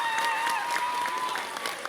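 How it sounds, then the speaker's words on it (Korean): An audience at a talk concert during a festival applauds, a dense, steady clapping that continues throughout, with a thin sustained tone running over it. "큰 박수를 좀 부탁드리겠습니다"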